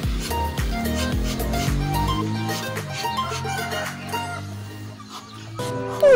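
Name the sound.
rooster clucking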